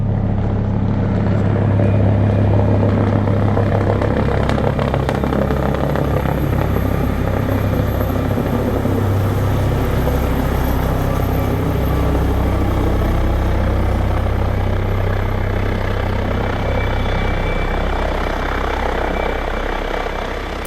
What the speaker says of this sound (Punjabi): ਉਤਰ ਗਿਆ ਥੱਲੇ ਇਹ ਹੈਗਾ ਜੇ ਐਂਬੂਲੈਂਸ ਵਾਲਾ ਹੈਲੀਕਾਪਟਰ